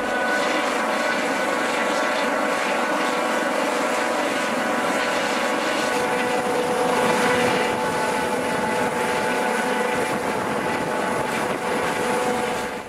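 A loud, continuous helicopter engine roar from a Basarnas Dauphin during an air rescue exercise holds steady throughout, close by and dominating, with a constant droning hum.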